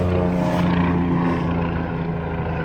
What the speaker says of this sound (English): EMS helicopter.